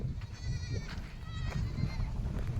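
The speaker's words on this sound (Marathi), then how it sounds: "दिसते का शेळ्या? अरे आता यांना पण चारायला नाही, फक्त फिरतात इकडून तिकडून, पाणी पितात." Goats on a dry, rain-starved farm bleat repeatedly, a wavering cry rising now and then over steady low background rumble, fairly close and alone without talk.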